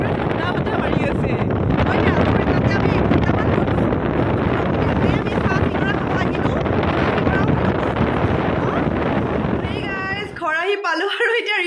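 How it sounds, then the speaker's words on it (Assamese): Cold wind gusting after rain roars steadily against the microphone for about ten seconds, loud and unbroken, before dropping away as a voice briefly speaks at the end. "বৰষুণৰ পিছত পুৰা ঠাণ্ডা বতাহ মাৰি আছে"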